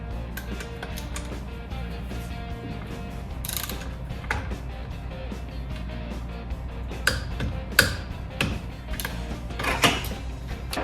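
A torque wrench ratchets while tightening the secondary clutch bolt on a Polaris Ranger or RZR, giving clusters of close mechanical clicks and ticks that grow a little louder and busier toward the end.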